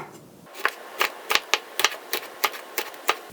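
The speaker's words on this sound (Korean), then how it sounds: "홍고추는 어슷하게 썰어줍니다." A knife slices red chili peppers on a cutting board in a steady series of crisp, evenly spaced chops, close and clear, with nothing else heard.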